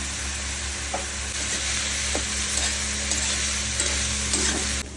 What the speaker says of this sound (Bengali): মাশরুমগুলি একটু লালচে হয়ে এসছে, তো প্রায় ভাজা হয়ে এসছে এগুলো